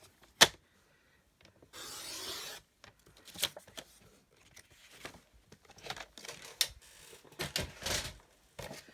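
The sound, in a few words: cutting designer paper for a card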